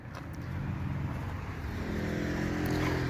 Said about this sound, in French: beaucoup de circulation de bagnoles, ça c'est toute la nuit, toute la journée